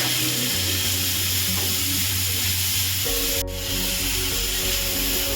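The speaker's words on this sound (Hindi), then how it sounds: "हमें लगातार भूनना है इसे घी में।" Grated carrots roast in ghee in a kadhai with a steady, close sizzle and hiss, plus a faint scrape partway through. No one speaks.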